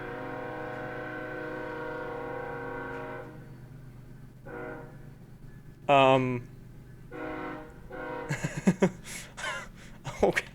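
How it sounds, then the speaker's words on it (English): A train passes close to a house, sounding its horn in a loud, sustained blast for about three seconds; quieter rumbling and voices talking follow. "That was a train."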